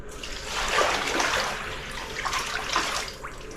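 Water runs and splashes steadily across a freshly tiled shower floor, a soft continuous hiss that swells and fades slightly, with no one talking.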